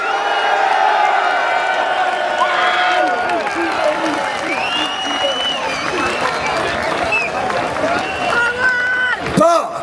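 A large outdoor crowd at a freedom of speech rally in London cheers and applauds for Northern Ireland, a loud sustained roar of clapping, whoops and shouts with voices rising throughout.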